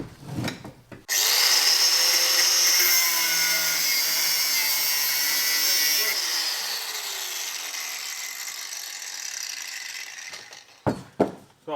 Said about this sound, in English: You're going to have to cut the bolt.